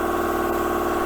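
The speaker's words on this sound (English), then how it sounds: "Sorry about the noise of the compressor in the background." An air compressor runs in a workshop where an MGB cylinder head is being worked on, a steady loud mechanical drone with a constant hum and no talking.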